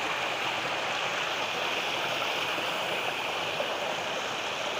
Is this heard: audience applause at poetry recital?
no